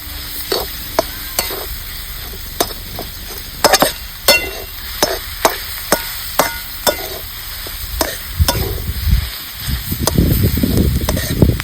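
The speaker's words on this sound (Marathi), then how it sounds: "बेसन पीठ आपल्याला चांगलं ह्याच्यातनं मिक्स करून घ्यायचे" Aghada (Apamarga) greens being stirred and sautéed with gram flour in a pan, with a steady close sizzle beneath repeated sharp scrapes of the spoon against the pan, and the frying grows louder toward the end.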